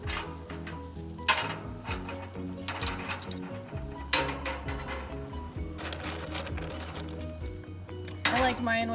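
Clams cooking on a hot outdoor grill, a faint sizzle under clicking and clattering as shells are laid out, with music-like tones and background noise throughout.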